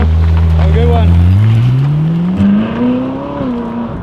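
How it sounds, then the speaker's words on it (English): Ferrari naturally aspirated V8 revving up and accelerating, a loud rising engine howl that climbs in pitch then settles, close by, with faint voices in the background. "That's quite a good sound. Naturally aspirated V8."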